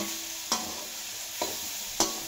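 Masala frying in a pan for a veg biryani, a continuous close sizzle broken by three sharp spoon scrapes spaced about half a second to a second apart, with no voices.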